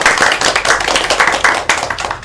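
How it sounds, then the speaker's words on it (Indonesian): Schoolchildren in a classroom clap their hands together, a lively group clapping close by with a brisk, fairly steady rhythm of sharp claps filling the whole moment. "hebat semua anak-anak ibu, tepuk tangan dong."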